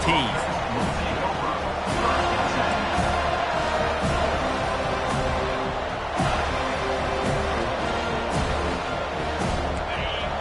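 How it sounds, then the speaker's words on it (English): A packed football stadium crowd roars loudly and without letup, a dense wall of cheering and shouting, while a broadcast commentator talks over it. "This crowd bringing an ear-splitting welcome to their visitors."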